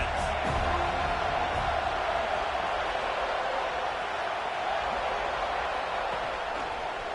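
A football stadium crowd roars steadily against the opposing offense, a broad, dense wash of cheering and noise holding loud and unbroken throughout.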